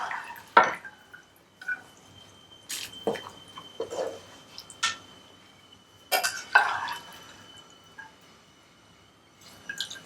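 Water draining from half-cooked split peas in a kitchen pot, heard as scattered wet drips, splashes and squishy liquid bursts with quiet clinks of cookware, moderately close and with no talk.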